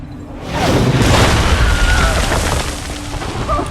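Artillery cannon fire near Bunker Hill in Assassin's Creed III: a loud, rumbling boom swells in and sustains with dense low roar and scattered crackle, like continuous distant bombardment, without clear speech.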